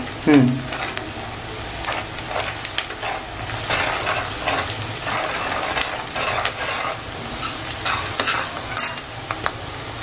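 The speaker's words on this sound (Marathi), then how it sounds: "कांदा आपल्याला जास्त मऊ नाही करायचंय, थोडा हलकासा मऊ करून आपल्याला त्याच्यात वाटण टाकायचं।" Onion fries in a pan for a karli fish rassa, cooking until just slightly soft. A loud, close sizzle runs throughout, with frequent spoon scrapes and clinks, and a quiet voice is heard briefly.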